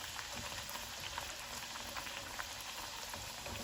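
Masala puri frying in hot oil, a steady dense sizzle and bubbling that holds at an even level throughout, with no talking.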